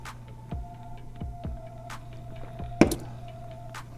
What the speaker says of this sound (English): All right, got the air compressor going.